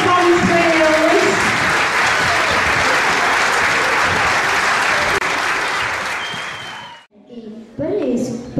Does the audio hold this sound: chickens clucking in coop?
no